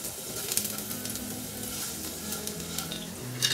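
Chopped onions hitting a pan of frying red chilli tempering, a steady sizzle with stirring scrapes and a few brief spatula clinks, close and continuous, with no talking.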